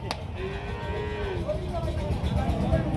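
A bull at a cattle market lets out one long, loud moo over a steady crowded market din.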